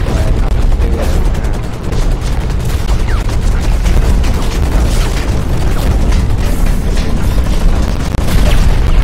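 Explosions and weapon fire from mech combat in the Hawken video game, a dense, loud barrage of booms and gunfire rolling on without pause.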